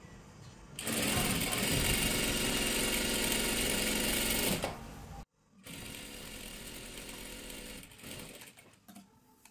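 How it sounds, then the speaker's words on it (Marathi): Sewing machine running a double line of stitching along a kurti seam, loud and steady for about four seconds, a brief stop, then a second sustained run of stitching. "इथे पूर्ण डबल शिलाई मारून घ्या"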